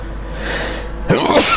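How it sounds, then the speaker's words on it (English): A single sharp human sneeze during a sim racing broadcast, close and loud, bursting out just after a second of steady background noise. "Excuse me, sneezing down everyone's ear."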